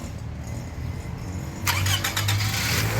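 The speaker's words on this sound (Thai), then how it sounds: "สตาร์ทเครื่องครับ ฟังเสียงเครื่องกัน" A 2007 Toyota Wish 2.0Q Sport automatic cranks briefly and fires up, settling into a steady close idle after a quiet start.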